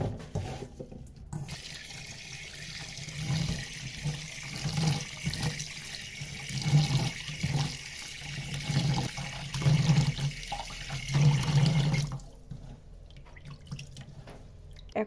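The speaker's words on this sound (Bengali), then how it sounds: "মাছগুলোকে একটু ভালোভাবে পরিষ্কার করব" Small darkina fish are rubbed with salt and rinsed under running water in a sink, with splashing, dripping and handling noises that swell and ebb, close by and fairly quiet, with no talking.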